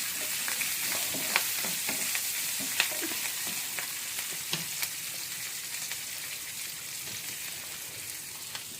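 Chopped onion and curry leaves frying in oil in a pan while being stirred: steady close sizzling broken by repeated scraping clicks of the spoon, no voices.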